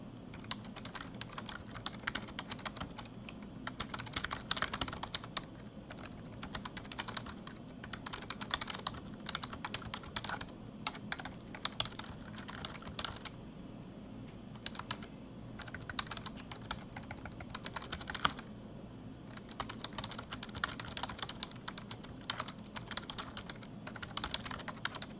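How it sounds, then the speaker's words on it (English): Steady, fairly quiet typing on a computer keyboard, a long run of rapid key clicks with brief pauses, close up and with no voices. "I am just going to write some very simple welcome text."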